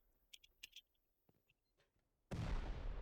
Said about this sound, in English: There's a lot of explosions going on here.